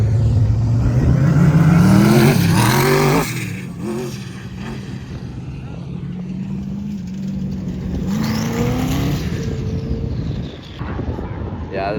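Turbocharged sand cars race across the dunes at Glamis, engines loudly revving and climbing in pitch close by before the roar drops away into a lower, more distant drone with wind buffeting the microphone.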